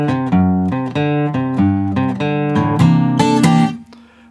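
Guitar in standard tuning plays the intro to a song, a clear run of plucked notes and chords, close and steady, with no voices.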